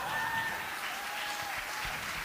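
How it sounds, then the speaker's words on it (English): Audience at an art prize closing gala and awards claps steadily, a continuous crowd of hands heard at moderate distance and fairly quiet, with faint tonal hum beneath. "So for that one, I would like another round of applause."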